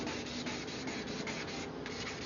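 Sandpaper wet-sands a 1995 Ford F250 front headlight lens, making a quiet, steady rhythmic rubbing scrape up close for a couple of seconds.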